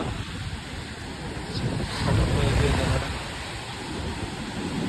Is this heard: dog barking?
no